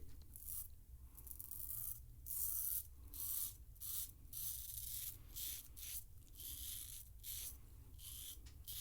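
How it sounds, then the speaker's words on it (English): A Caveem safety razor scrapes across a face in short, rhythmic strokes, each a crisp rasping pass with brief pauses between, close and fairly quiet, no talking. "Keep the safety razor flat on my face and apply a little bit of pressure."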